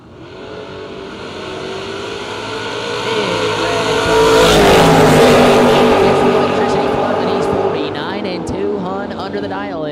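Chevrolet Bel Air and Camaro drag cars launch at a footbrake bracket race, their engines building into a loud, sustained roar that peaks midway and then holds, with an announcer's voice running beneath.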